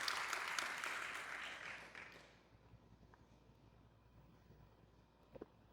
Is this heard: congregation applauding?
yes